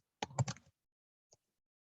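Typing on a computer keyboard: a short quick burst of several close keystrokes followed by a single faint keypress after a pause in a quiet room.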